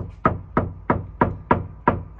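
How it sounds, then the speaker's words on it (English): Seven evenly spaced knocks on a house front door, firm and close, each a sharp rap with a brief hollow ring, alone with no voices. "Hear that knock? Sounds vacant."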